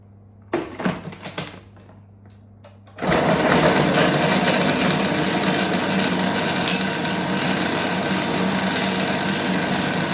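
A food processor whizzes pastry dough for hamantaschen in a kitchen, starting after a few soft clatters and then running as a loud, steady high-pitched whir to the end.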